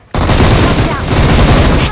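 Loud automatic gunfire from the BGMI mobile battle royale game, a dense, continuous burst of rapid shots that starts abruptly and fills the whole clip.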